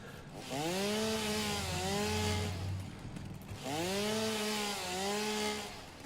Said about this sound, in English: chainsaw coming in